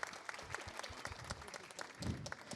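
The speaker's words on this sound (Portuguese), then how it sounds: "Uma salva de palmas para Elisama, gente." An audience applauds psychoanalyst Elisama at a talk with Mario Sergio Cortella, a soft, dense round of clapping from a room of listeners, with a few murmured voices underneath.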